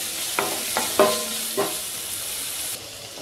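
Onions and dal sautéing in a pan of hot oil give a steady close sizzle, broken by a few short scrapes and clinks of a stirring spoon, with no talking.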